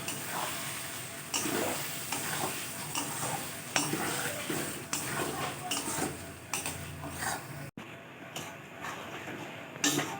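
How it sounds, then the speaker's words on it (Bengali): Yogurt being stirred into prawn malai curry over a low flame, a continuous gentle scraping and soft clinking of a spoon in the pan, close and fairly quiet, with no speech. "টক দইটা দিয়ে আমি ভালো করে নাড়তে থাকবো"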